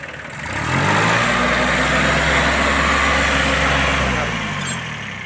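Kubota B1200 four-wheel-drive tractor with a 3-cylinder diesel engine, a close, steady low rumble that rises in and holds for several seconds before easing off, with no voices.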